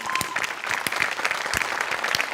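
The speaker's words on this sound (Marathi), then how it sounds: "एकदा जोरदार टाळ्या" Audience applause at a Marathi comedy show, steady loud clapping throughout with sharp individual claps standing out.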